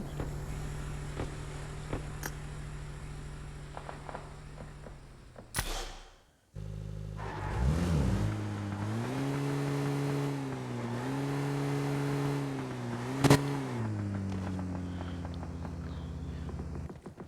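A car engine in PUBG Mobile revs up after a short break, its pitch rising and falling in steady waves as the vehicle drives, loud and continuous with no talking.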